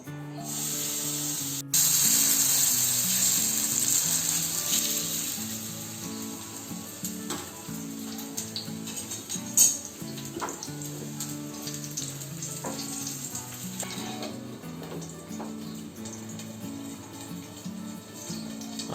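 Handvo batter fries in hot oil in a pan with a constant bright sizzle, crackling steadily throughout while soft background music plays underneath.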